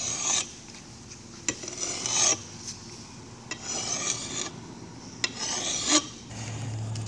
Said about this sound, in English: we're one step closer to sharpening our axe.